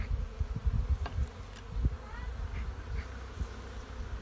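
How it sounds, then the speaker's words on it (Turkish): Honeybees buzz around at close range at a hive during an early-spring inspection in Çorum, Turkey, some bringing in pollen: a steady low insect hum with a few louder passes, over faint outdoor background noise. "Maşallah polen getiren arılar var"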